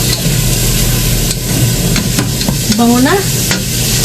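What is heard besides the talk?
stirring meat frying in a pan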